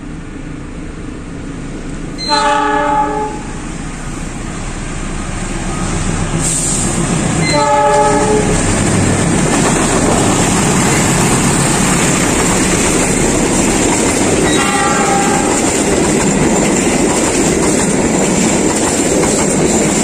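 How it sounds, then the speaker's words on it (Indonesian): The Argo Wilis express passes Ciamis station in Indonesia without stopping, sounding three horn blasts spaced several seconds apart over a growing loud rumble of wheels on rail. "Semakin mendekat kereta api Argo Wilis."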